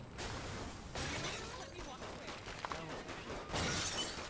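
Glass shatters repeatedly in the action game Saints Row The Third, with loud crashing bursts of breaking panes and scattered tinkling debris close by, amid game noise.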